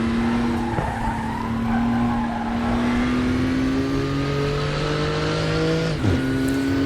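Porsche race car engine in the RaceRoom racing game, a loud continuous engine drone whose pitch climbs steadily through the gear, briefly dipping at a shift, with tire squeal noise over it and no talk.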